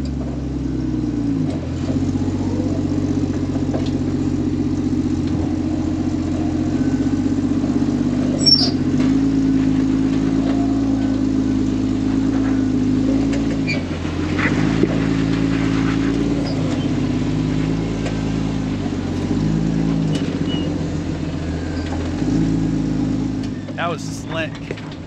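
A front-wheel-drive off-road vehicle with a broken shaft, under tow, idles and strains as it climbs over a rock, its steady engine rumble running throughout with a brief rise in revs midway, while people talk over it.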